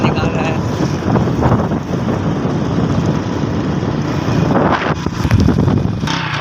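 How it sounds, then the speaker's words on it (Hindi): A motorcycle running low on petrol rumbles and sputters with an uneven, rough engine note, heard up close along with wind buffeting the microphone. "मोटरसाइकिल आवाज़ें निकाल रहा है।"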